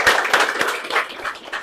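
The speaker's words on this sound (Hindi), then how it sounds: "सो प्लीज एक जोरदार हाथ ताली फॉर स्टूडेंट्स" An audience claps for students being honored at a NEET achievers' celebration, a dense, steady burst of applause from many hands that stays fairly loud throughout, with a faint voice briefly mixed in.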